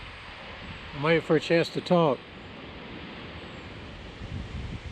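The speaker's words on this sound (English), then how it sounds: "Wind is gusting." Broadband wind noise from gusts at Pretty Hollow Gap in the Great Smoky Mountains rushes steadily across the microphone, with a brief spoken phrase near the start and the gusts swelling a little at the end.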